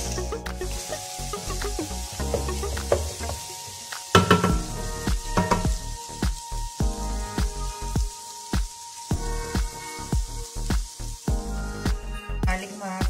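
Chopped ginger and garlic sizzle and fry in hot oil in a pan for a chicken karahi, a steady crackling hiss broken by sharp spatters and stirring clatter throughout.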